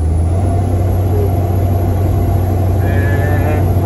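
Peterbilt 330 truck engine at about three-quarter throttle climbing a grade onto the interstate while hauling cattle, a loud, steady low drone heard close up from inside the cab.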